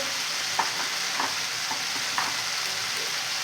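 Spice masala with turmeric and a splash of water cooking in a pan for a vegetarian paneer dish, a soft steady sizzle broken by a few light scrapes of a spoon stirring, close up and without speech.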